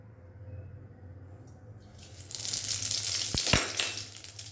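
A teaspoon of panch phoron spices dropped into hot oil while making sweet chalta pickle, a quiet hum giving way to a sudden loud, steady crackling sizzle with a couple of sharp clicks, close and without talk.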